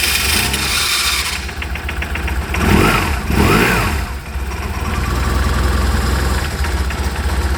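BMW R 1150 RT motorcycle engine running on choke after starting, a close, loud boxer-twin idle with two sharp revs and a steady rumble settling afterward.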